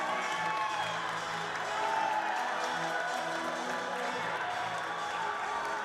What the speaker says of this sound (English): that's the crowd reaction you hear